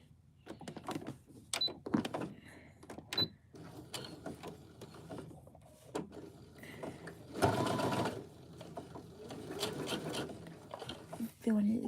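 A sewing machine with a new needle stitches in short bursts, its mechanism whirring and clicking close by, with pauses between runs and a voice talking at times.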